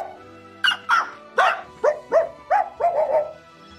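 A voice imitates a dog's bark in Dragon Ball Z Kakarot, giving eight short, loud yapping barks in an irregular rhythm, close to the mic and with no other talk.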